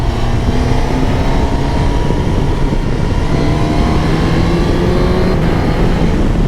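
A Suzuki GSX-S1000GX four-cylinder motorcycle engine hums steadily and loudly while riding, its smooth tone slowly rising and falling in pitch over constant wind rush.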